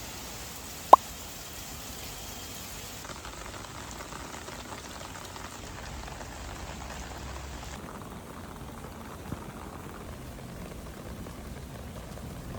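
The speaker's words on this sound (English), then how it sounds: "So I tested this under 25 minutes of heavy rain." Heavy rain falls steadily on a Goal Zero Lighthouse Micro Flash lantern. A faint, even patter of drops runs throughout, with one sharp tap early on and a softer one later.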